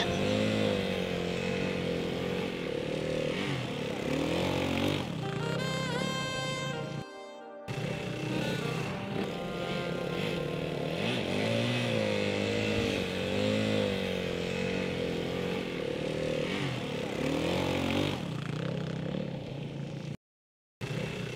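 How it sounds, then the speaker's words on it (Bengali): A motorcycle rides along a road, its engine droning steadily with rising and falling revs, fairly close, broken by two brief drops into silence. "কথাটা শেষ করে মনের আনন্দে বাইক নিয়ে ছুটল অনুজ"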